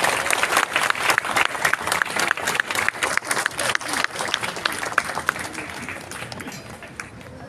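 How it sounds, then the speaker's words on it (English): Audience applause at a city council session in Mandaue: dense, steady clapping from a room full of people, loud and continuous before thinning slightly near the end. "let's give them a warm applause"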